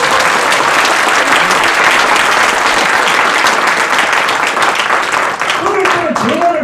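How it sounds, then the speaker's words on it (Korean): Loud, dense audience applause at a political lecture, a steady wall of clapping that carries on throughout, with a voice starting to speak over it near the end. "박수 한번 보내주세요"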